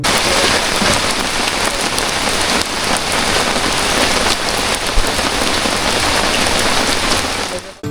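Heavy rain pours steadily on Penang Hill, a dense, loud, continuous hiss of drops hitting surfaces, close and unbroken for the whole stretch with no voices.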